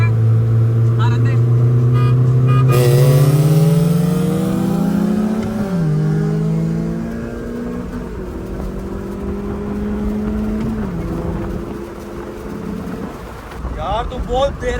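Race cars, one with a Toyota 3SGE engine and a Honda Civic, rev hard and accelerate, their engine notes climbing and dropping through several gear changes, loud and close, with voices at times.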